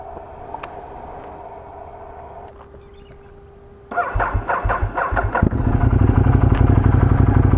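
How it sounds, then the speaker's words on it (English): A 2013 Ducati Multistrada motorcycle engine cranks and catches, then settles into a loud, steady running rumble close by. "Okay, we switch the engine on."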